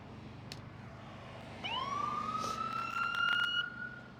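A fire department ambulance siren winds up from low to a high, sustained wail, loud and fairly near over a steady engine rumble, with a brief horn-like burst partway through.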